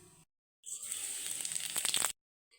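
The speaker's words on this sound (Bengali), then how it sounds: "আমার শুকনা মরিচ ভাজা হয়ে গেছে।" Dried red chillies frying in oil in a kadai, a steady bright sizzle for about a second and a half with a few sharper crackles toward the end, preceded and followed by quiet.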